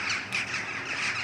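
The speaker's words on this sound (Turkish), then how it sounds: "Kargalara bakın." Crows squawking and cawing outdoors at a lakeside bungalow retreat, a few rough calls close by over steady background noise.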